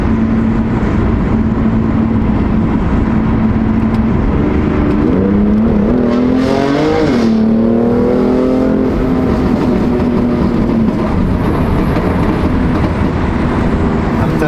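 A BMW F80 M3 on cold tires, its engine loud and close with a steady drone that rises sharply as it revs and accelerates midway, then settles back into a sustained roar.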